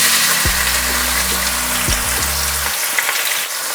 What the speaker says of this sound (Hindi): अब इसे हम मीडियम फ्लेम पे 2 से 3 मिनट के लिए भून लेंगे।